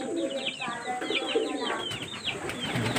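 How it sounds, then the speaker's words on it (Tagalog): Soft, repeated pigeon cooing against a steady background hum, several birds overlapping in a continuous murmur. "Tapos ito, mga kalapati."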